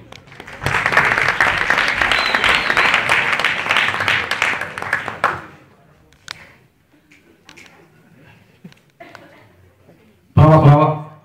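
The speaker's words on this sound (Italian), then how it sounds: "un applauso per lui." Audience applause for a singer at a live show, a loud dense burst of clapping for about five seconds that fades out, followed by quiet room noise and a brief loud sound at the end.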